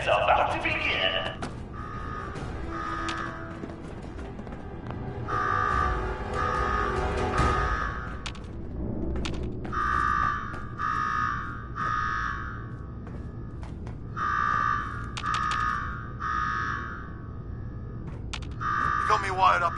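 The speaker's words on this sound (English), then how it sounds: "Now go shut off that damn alarm." A repeating alarm blares in a PS4 video game, sounding as rhythmic bursts of beeping tones in regular groups, heard under character dialogue and other game sounds.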